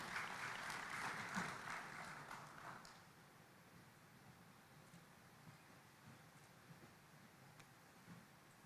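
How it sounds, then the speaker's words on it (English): Applause breaks out at a business forum held at KICC in Nairobi. A crowd claps for about three seconds, fairly quietly, then fades away into a low room hush. "Let's give him a round of applause and welcome to the stage."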